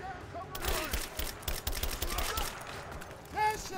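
Rapid bursts of gunfire from the Rise of the Tomb Raider video game on Xbox One, with dense repeated shots running through most of the stretch and a player's voice talking over them.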